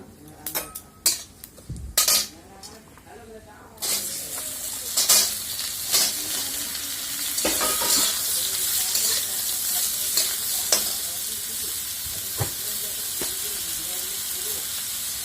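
Raw green mango pieces fry in oil with a bay leaf and mustard for a sweet-sour mango chutney, a steady close sizzle with sharp clattering stirs and pan knocks, the frying growing louder and denser partway through.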